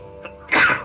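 A single sharp sneeze bursts out close and loud after a faint short breath, with no talk over it.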